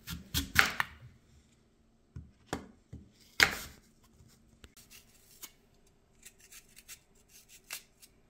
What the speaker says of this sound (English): Now let's cut our apple into small pieces.